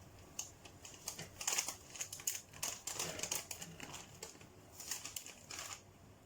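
A knife cuts the edging off a lemon drizzle cake on a plate, giving close, irregular crisp crunching and scraping strokes in quick bursts.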